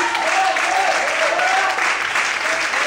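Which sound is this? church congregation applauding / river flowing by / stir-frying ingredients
church congregation applauding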